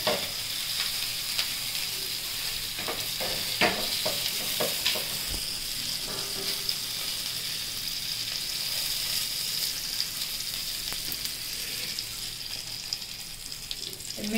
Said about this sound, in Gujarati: તેલથી પણ શેકી શકાય પણ બટરને ટ્રાય કરી જોઈએ કેવું લાગે